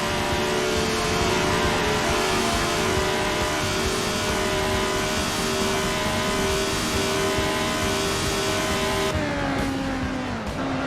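A 1975 Formula One race car in Assetto Corsa holds a steady, loud high-pitched engine drone in a long fifth gear for about nine seconds, then the pitch drops sharply as it lifts off near the end.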